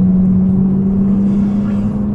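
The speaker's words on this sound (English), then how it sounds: "It sounds so nice with the Ram Air induction kit. You're getting that proper suction noise that you get from it." A Mk2 Seat Leon FR petrol engine fitted with a Ram Air induction kit holds a steady, loud droning hum with a faint intake whoosh, heard close up and continuous with no talk.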